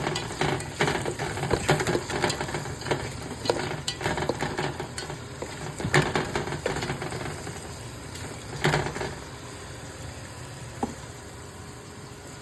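Onions with salt frying in a pan, an ongoing sizzle broken by repeated scraping and clattering stirs of a spatula against the pan, busier at first and calmer toward the end, no talking.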